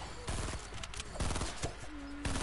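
Rapid bursts of video game gunfire crackle in short volleys, several sharp clusters spread over a couple of seconds. A voice is heard faintly amid the shots.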